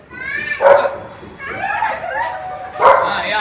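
A dog gives a few close, high yelping barks and whimpering cries in separate bursts, fairly loud, with little else around them.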